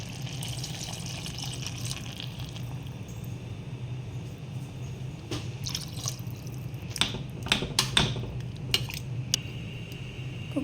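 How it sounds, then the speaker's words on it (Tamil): Water is poured into a cooking pot of garlic-chili vegetable mixture for pav bhaji, giving a steady close pouring and trickling sound with a few splashes and light clinks toward the end. "தேவையான அளவு தண்ணி ஊற்றிக்கலாம்."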